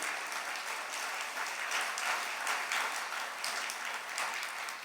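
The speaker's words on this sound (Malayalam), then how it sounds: "ഒന്ന് കൈയടിച്ച് കർത്താവിനെ മഹത്വപ്പെടുത്തും." An audience at a church talk claps in praise, a dense, even burst of many hands clapping together that carries on steadily for several seconds, heard from within the crowd with no speech.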